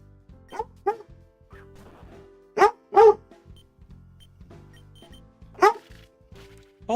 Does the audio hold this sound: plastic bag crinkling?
no